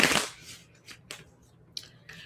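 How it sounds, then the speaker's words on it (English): Tarot cards being shuffled by hand make a brief crisp riffle at the start, followed by a few soft, separate flicks and slides of card stock in a quiet room. "Two more shuffles for Scorpio."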